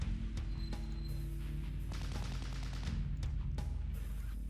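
Scattered gunfire in the Close Combat: Cross of Iron wartime strategy game, sharp cracks and bursts over a constant low rumble, spaced irregularly at mid distance, with no talk.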